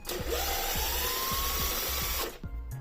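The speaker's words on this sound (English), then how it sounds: "So I'm just going to start removing these bottom plates." A power tool works on the bottom plates of a Traxxas UDR RC truck, giving a loud, steady whine with regular low pulses that cuts off near the end.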